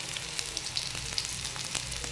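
Taro stolons fry in a pan, giving a faint, steady sizzle broken by small scattered pops and crackles.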